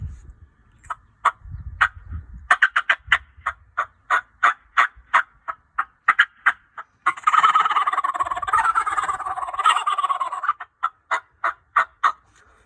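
A wild turkey gobbler's call comes as a string of sharp, evenly spaced yelps, then breaks into a sustained, rolling gobble before more clipped yelps follow. The sound is clear and prominent against near silence.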